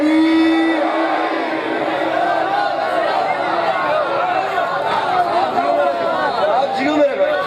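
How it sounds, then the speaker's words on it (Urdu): Large crowd at a Shia religious gathering chanting the slogan Naara-e-Haidari in unison, a loud, dense, continuous wall of massed voices filling the space. "اب ان کے نعرے حیدری،"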